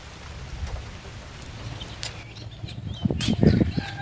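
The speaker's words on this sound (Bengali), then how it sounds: "বৃষ্টি পড়ছে তো হঠাৎ" Sudden rain falling outdoors, a soft steady patter that swells into heavier drops and splashes near the end, with an occasional bird call and no talk.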